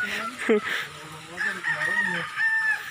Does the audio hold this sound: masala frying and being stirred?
no